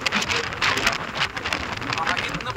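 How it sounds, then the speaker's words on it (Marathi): Heavy rain begins falling in Saswad, a dense, steady hiss of drops striking the ground and surfaces around, fairly close and continuous with no voices over it. "बघा इथनं पाऊस सुरू झाला."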